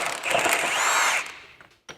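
An impact wrench fitted with a shorter extension works a bolt loose on a 2013-17 Subaru Crosstrek during a lift kit install, giving a loud close burst of rapid hammering that stops, followed by a short clank.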